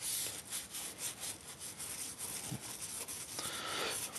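Old gun being scrubbed with Big 45 Frontier Metal Cleaner, a continuous close rubbing and brushing sound in steady back-and-forth strokes, moderately quiet, with no speech.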